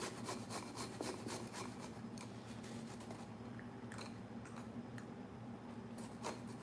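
Garlic rubbed across the fine side of a kitchen grater, giving a steady rasping scrape with quick repeated strokes, close and moderately loud with no talking.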